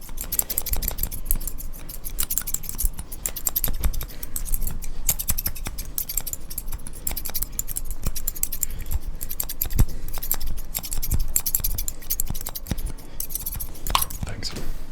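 Barbershop scissors snip in a steady rapid series of crisp close metallic clicks, sustained throughout with no talking.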